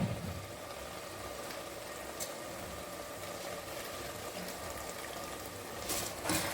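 Rice soaked for half an hour tipped into a pot of boiling water for tomato rice, a steady bubbling hiss with a couple of brief splashy bursts, close and fairly quiet.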